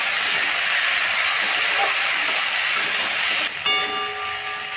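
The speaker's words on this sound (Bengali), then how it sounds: "কুমড়োগুলো খুব ভালো করে নেড়ে ভেজে নেবো" Pumpkin pieces stir-fry in a pan with a loud, continuous hissing sizzle that barely changes, ending with a brief shift and a faint tonal hum.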